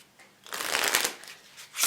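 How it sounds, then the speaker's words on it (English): A Can-eh-diana deck of playing cards being riffle-shuffled close up, a brisk flurry of rapid papery flicks that builds and fades, then a short second riffle at the end, with no talking. "They shuffle very, very nicely."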